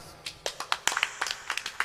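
A small crowd at a wedding ceremony gives a thin, scattered round of applause, with uneven individual hand claps heard close by in a brief burst.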